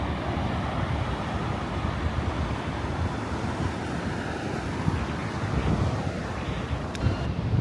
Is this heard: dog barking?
no